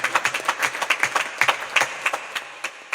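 Audience clapping inside a temple during a Navratri religious gathering, a steady patter of many hands over three seconds with no talk, moderately loud and fairly close.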